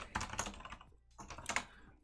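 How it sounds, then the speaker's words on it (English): Computer keyboard typing in two quick bursts of close, crisp key clicks with a brief pause between them, faint and with no voices. "I'm typing import tuple."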